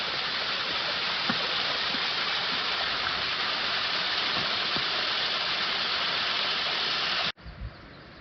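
Waterfalls pour into a small lagoon along a lakeside hiking loop, a steady, full rushing roar of falling water that runs unbroken before cutting off abruptly near the end.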